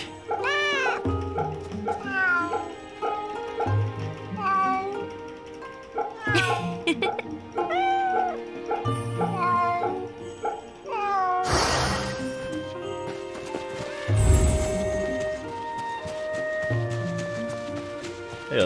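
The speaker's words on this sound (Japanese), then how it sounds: "更多的猫猫。" Several cats meowing in the video game Fate/Samurai Remnant, repeated mews layered over game music, with speech talking across them and a sharp burst of effects near the end.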